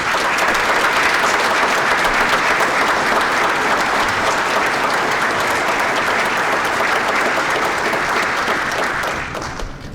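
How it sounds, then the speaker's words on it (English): An audience claps loudly and continuously at a high school sports hall of fame ceremony, a dense sustained applause that tapers slightly at the end. "let's give him a round of applause"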